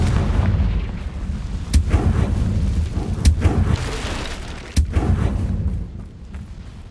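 Confringo explosive fire curse cast in the Hogwarts Legacy video game, with sharp booming blasts over a dense rumbling battle din, three strong hits standing out.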